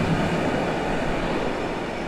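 Passenger train at Warszawa Zachodnia station, a steady loud rumble of rolling railcars filling the whole stretch, close by and continuous with no voices.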